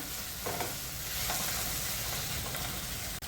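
Cashew pieces, five or six of them, roasting in a pan for a peas and paneer kofta curry, a steady continuous sizzle with faint stirring, close and even throughout with no talk.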